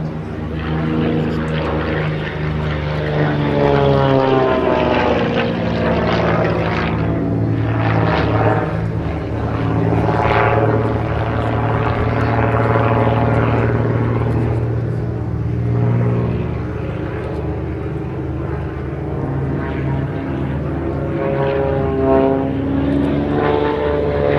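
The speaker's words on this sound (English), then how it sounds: "From that very sleek, very lightweight aircraft of largely composite construction" The XA42, a sleek, lightweight aerobatic aircraft of largely composite construction, drones loudly and steadily through a display flight at the Abingdon airshow, its propeller engine pitch rising and falling, with a commentator talking over it.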